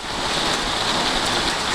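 Steady rain falling outside a bedroom window in London, a dense, even hiss of drops that stays loud and close throughout, with no voices.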